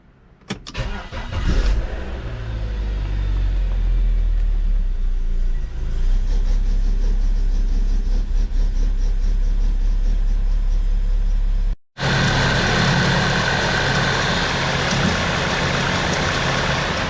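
A German BMW car starts up and then idles in neutral. A steady low engine hum carries on after the start, broken by a brief cut, and the idle returns rougher and louder.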